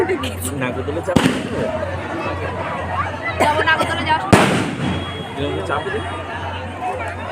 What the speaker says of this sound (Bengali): এবছর যাক একটু হলেও বাজি পোড়ানো হলো